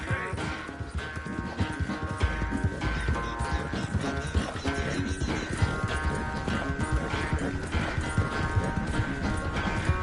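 Hooves clip-clop steadily under a dense, loud bed of orchestral music, with the occasional horse snort or whinny hinted in the mix throughout.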